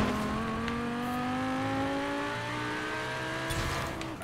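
A car in the Forza Horizon 4 racing game drives with a loud continuous engine note that slides slowly down in pitch, with tire noise and a shift near the end, no voices.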